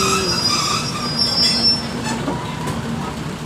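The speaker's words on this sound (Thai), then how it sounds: "ตรงนี้ก็รถไฟก็จอดรับผู้โดยสารนะทุกคน" Train wheels squeal in high, sustained metallic tones as a passenger train on the Hua Lamphong to Bang Sue line halts at a stop in Bangkok, loud and close over a rumbling rail-car drone.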